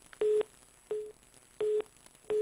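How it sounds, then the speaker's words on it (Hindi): Telephone tone on a line after the call is hung up: four repeated beeps of steady pitch with short gaps between them, clear and alone on a quiet line. "कमलेश पांचाल जी, जवाब देना जरूरी नहीं समझा डीएसपी ने और उन्होंने फोन काट दिया।"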